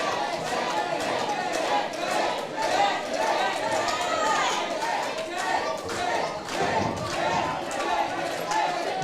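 A wrestling event crowd in Danville, Indiana cheers and chatters in a hall, with claps and thuds from the ring, under a commentator's steady play-by-play talk.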